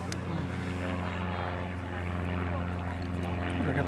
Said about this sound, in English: I got the plane in the background.